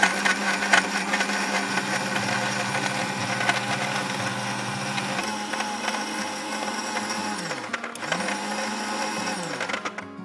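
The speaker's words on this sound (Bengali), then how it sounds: "এখন হচ্ছে এটাকে ব্লেন্ড করে নেব।" An electric blender runs steadily for about ten seconds while blending juice, a loud continuous motor whir and churn, dipping briefly in pitch near the end before spinning back up.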